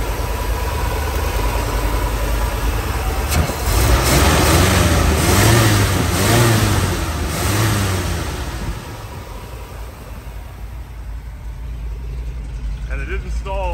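A 1966 Ford F-250 4x4 bush rescue truck with a new exhaust idles after starting, a loud steady rumble that swells for several seconds, then settles into a lower, even idle.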